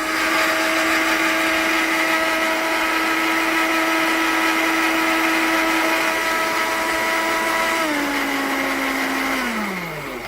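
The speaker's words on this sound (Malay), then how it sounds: "Jadi ini kita nak blend." An electric blender whirs loudly and steadily while it purees about fifteen bird's eye chillies with a large onion. Near the end the motor pitch drops as it winds down. No one speaks.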